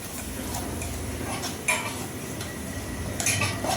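A gongura chicken curry paste is stirred steadily in a pot, with continuous close utensil scraping and clinking against the metal under a low background hiss, and a few sharper knocks near the end.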